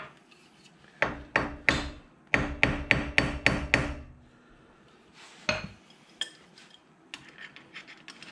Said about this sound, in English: Maybe it's going to take a little bit of hammer action to tap it in there first.